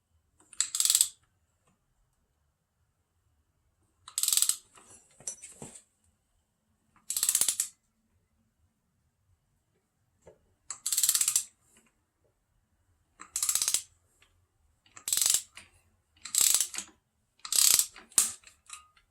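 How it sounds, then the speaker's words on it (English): Torque wrench tightening a bolt during a Honda CR250 engine install, heard as a series of separate short ratcheting bursts spaced a few seconds apart, close and crisp, with near-silence in between and no talking. "torque this 7 foot-pounds"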